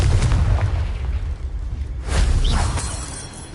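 Confringo fire spell exploding in Hogwarts Legacy, a heavy, close booming blast with rumbling low end, dipping briefly before a second fiery burst swells and trails off.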